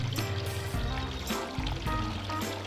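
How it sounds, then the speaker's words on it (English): Freshly brewed coffee for an Irish coffee is poured outdoors into a mug, making a steady, fairly quiet liquid stream that runs continuously for a few seconds with a slight rising gurgle and no talking. "And now we can pour our coffee into our mug."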